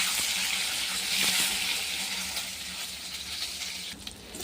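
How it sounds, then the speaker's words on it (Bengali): Eggs drop into hot oil in a heated wok for an egg curry, setting off a loud, bright, continuous sizzle and crackle that fades slightly before a few small clinks near the end. "ডিমগুলো ছেড়ে দেবো।"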